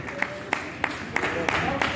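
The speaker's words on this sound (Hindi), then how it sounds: "जोरदार ताली से स्वागत किया जाए" Steady, evenly spaced claps ring out at a Private Schools Association annual function in Araria Town Hall, welcoming the treasurer; a voice carries faintly underneath.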